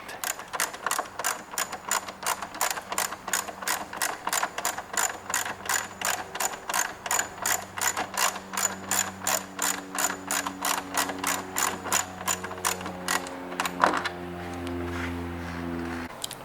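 A ratchet with an 8mm socket loosens a side fairing bolt on a 2001-2017 Honda Gold Wing motorcycle, making a long run of rapid, evenly spaced close clicks that slows near the end.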